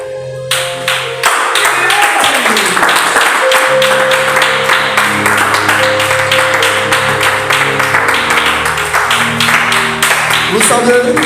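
A church congregation claps loudly in a steady, fast rhythm, with sustained music tones and voices mixed in throughout.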